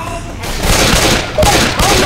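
Rapid bursts of video game gunfire from Left 4 Dead 2 crackle loud and close, overlapping in dense volleys with brief gaps between them.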